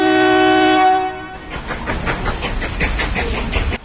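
A loud train horn sounds a sustained blast, then a passing train rumbles and clatters close by in steady rhythm, with no voices.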